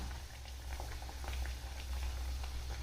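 Dense, steady bubbling and crackling of green moong dal fritters deep-frying in hot oil in a wok, continuous and close, with a low rumble underneath.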